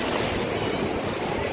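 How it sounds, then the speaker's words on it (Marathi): Sea waves at Calangute Beach in Goa, a dense continuous wash of surf filling the short moment, loud and close with no voices. "बघू शकता अशा पद्धतीच्या लाटा वगैरे आहेत"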